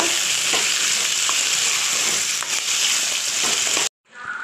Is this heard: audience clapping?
no